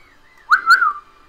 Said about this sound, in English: He's under there whistling for him.